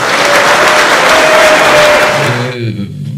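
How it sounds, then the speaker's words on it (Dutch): Warm applause from a crowd for Theo Hiddema at a Dutch gathering, loud close clapping that tapers off after a couple of seconds as a voice begins speaking. "Ik wil jullie allemaal even een warm applaus willen laten geven voor Theo Hiddema."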